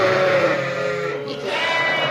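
Kangal sheep and a lamb bleat close by on a farm, with a single loud, wavering bleat that runs for about two seconds and stands alone.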